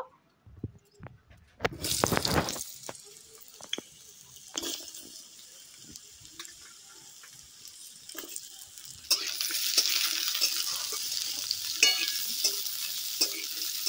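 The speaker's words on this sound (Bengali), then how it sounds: "আলুগুলো তেলের মধ্যে দিয়ে দেব।" Potatoes fry in hot oil, starting with sharp scraping stirs, then a steady sizzle that grows louder and denser toward the end, with occasional clicks and drips.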